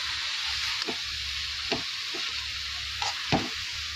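Cauliflower frying in a pan while being stirred, a continuous bright sizzle with several short scraping strokes of the spoon at irregular intervals, close and loud with no talking.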